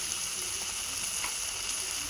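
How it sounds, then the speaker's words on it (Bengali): Ginger paste, chopped tomato and chili powder fry in a pan, giving a steady, close sizzle that holds level throughout with no talk. "আদা বাটা এবং টমেটো কুচি সবগুলো দিয়ে এর সঙ্গে ভেজে নেব।"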